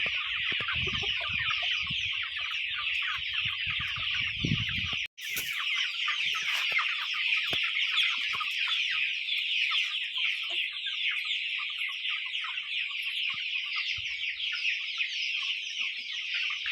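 A flock of chickens on a low-budget village chicken farm keeps up a steady, dense chorus of clucks and chirps, with brief low rumbling early and a short dropout partway through.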